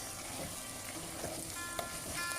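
Mutton karahi sizzles as it fries in a pan in a highway-restaurant style, giving a continuous crackling hiss with small spatter pops. It is fairly quiet and no one speaks.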